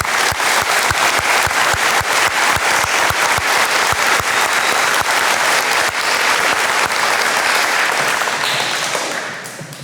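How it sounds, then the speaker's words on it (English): Loud, sustained applause from a school audience at a junior honor society induction ceremony, dense clapping filling the room steadily before tapering off near the end. "Please join me in thanking them with a round of applause."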